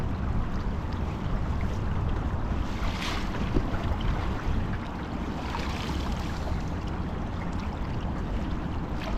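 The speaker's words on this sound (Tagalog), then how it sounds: "Malakas ang agos." A strong river current rushes steadily past, a broad close roar of moving water with wind buffeting the microphone throughout and no voices.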